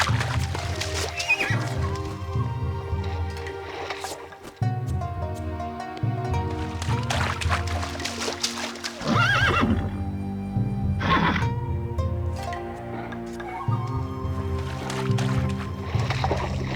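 Repeated horse neighs and whinnies in the video game Battle Realms over background music, with occasional hoof clip-clops, loud and close throughout.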